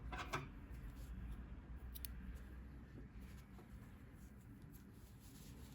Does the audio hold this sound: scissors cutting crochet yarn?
yes